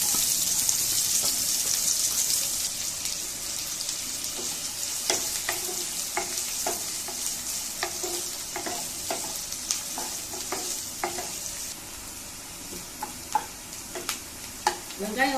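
Onions frying in hot oil with popped mustard seeds for kara kuzhambu, a steady bright sizzle that later breaks into a run of sharp ladle taps and scrapes against the pan.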